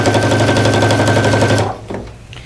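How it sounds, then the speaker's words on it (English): A sewing machine stitching binding onto a quilt, a loud rapid mechanical whir of needle strokes running steadily, then stopping abruptly with a couple of brief handling clicks after. "And I'm gonna continue sewing this on."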